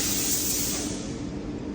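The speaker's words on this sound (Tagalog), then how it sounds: "Spray gun. Ayan o, spray gun." A spray gun gives a steady, close, broadband hiss that runs continuously for a couple of seconds without pause.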